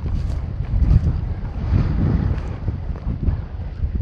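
Strong wind buffets the microphone at an outdoor hilltop spot near an old pioneer farmhouse, a steady low roaring rumble with gusty swells throughout and no voices.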